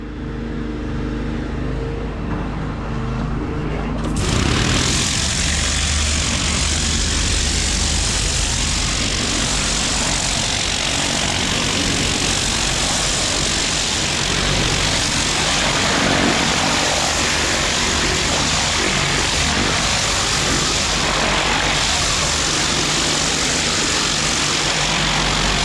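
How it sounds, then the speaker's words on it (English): Gas pressure washer with a turbo nozzle blasting a pathway clean, a loud steady engine drone with broadband spray hiss that jumps up after a quieter start and runs continuously without a break. "I'll show you how simple it is to clean this pathway quickly and very efficiently with the turbo nozzle"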